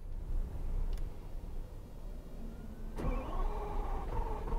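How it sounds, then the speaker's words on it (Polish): A Lamborghini Aventador SVJ cranks on a cold start, a sharp click leading into a loud mid-pitched engine catching and settling into a steady idle, up close with no talking. "A to zimny start w SVJ."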